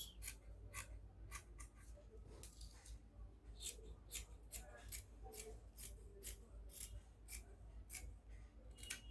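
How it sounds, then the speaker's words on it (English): Scissors snip through dress fabric for an off-shoulder pencil gown with a steady run of crisp, close cutting clicks about every half second, fairly quiet, with soft speech faintly underneath. "Now I'm going to go ahead and cut this out."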